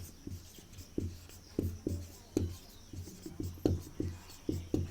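Chalk or marker writing on a board during a physics lesson, a series of scratchy strokes and taps in an uneven rhythm, fairly close and distinct, with no voices.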